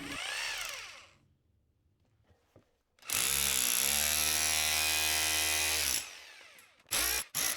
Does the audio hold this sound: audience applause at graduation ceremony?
no